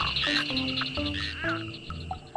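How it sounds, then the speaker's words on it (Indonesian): A green frog croaks repeatedly at close range, a series of loud, rough, rhythmic croaks with short pauses between them, standing alone with no talk over it. "ini ada hewan yang namanya kodok"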